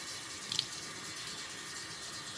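Sprouting fodder is rinsed in water with a faint, steady trickle and a soft splash early on, quiet and continuous, no talking.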